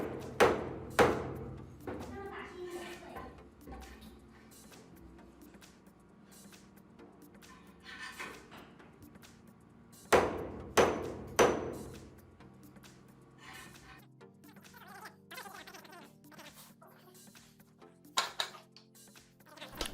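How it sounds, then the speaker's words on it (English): A rifle scope, the Discovery Optics VT-T 6-24x50 FFP, is repeatedly bashed down onto a table in a durability test, giving sharp, loud thuds and clattering knocks in irregular bursts. The impacts sound sped up, with quieter rattling between the hits. "this guy just busted that table up by bashing the scope down on the table"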